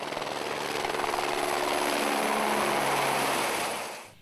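A firefighting helicopter's steady rotor thrum and engine roar over burning reed beds near Venice hold loud and constant, then fade away at the end.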